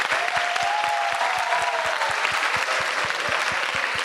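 An audience at an innovation week event claps in sustained, dense applause that fills the whole stretch at steady loudness, with many hands beating at once and no break.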